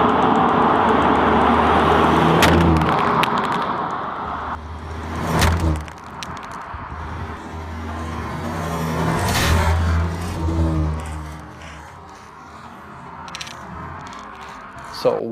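A car rolls over smartphones lying on pavement, engine rumbling and tires crunching across them in a long loud pass, with voices talking over the motor noise.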